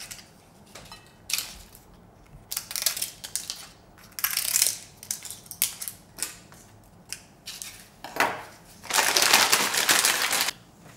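Knife cutting a cod fillet into small pieces on a board for a spicy Korean braise, a series of close, crisp chopping and slicing taps, irregular and fairly quiet, with a longer scraping stroke near the end.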